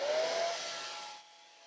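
A hair dryer blowing over a wet watercolor painting, a steady close airy whoosh with a faint whine that eases off partway through before settling to a quieter hiss.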